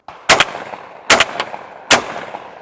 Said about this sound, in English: I am just shooting 1/8" target loads. So these aren't real heavy loads, but I get a pretty good idea of how the shotgun's gonna recoil based on this.